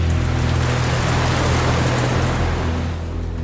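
Open-ocean waves wash around a boat drifting with no engine or sail, a continuous loud broadband rush of water with a low rumbling undertone throughout.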